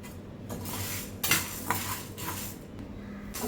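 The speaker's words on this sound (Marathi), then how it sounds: "तर आपण 2 मिनिटं हा साबुदाणा व्यवस्थित भाजून घेऊया" Sago pearls dry-roasted in a pan for fasting dosa, stirred with a utensil, giving steady scraping and rustling with a few sharper clinks against the metal, close and moderately loud, no talking.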